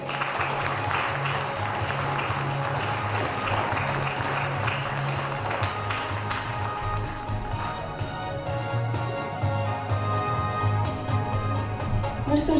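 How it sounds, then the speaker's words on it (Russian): An audience claps steadily for the winners of a professional skills competition at a student day event, filling the room with a sustained wash of applause, with a voice faintly underneath. "еще раз аплодисменты"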